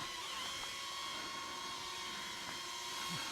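A DJI Neo 2 drone flies under trees, following a walker. It gives a faint, steady high-pitched propeller whine that holds level throughout, and no one speaks.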